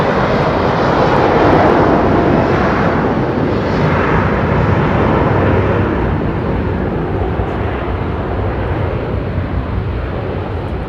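A Boeing 737 at London Heathrow produces a loud, broad jet roar that swells early and then slowly fades as it moves off, heard alone without voices.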